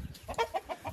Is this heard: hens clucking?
yes